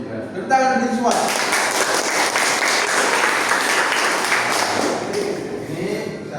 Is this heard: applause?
yes